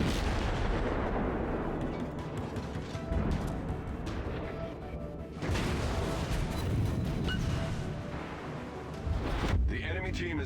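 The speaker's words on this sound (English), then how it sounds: "Have some torpedoes, good cruiser friend. And some high explosive shells for good measure." Heavy booming naval gunfire and shell impacts roll on steadily as high-explosive rounds hit a cruiser in the naval battle game World of Warships, with a voice talking over the repeated loud blasts.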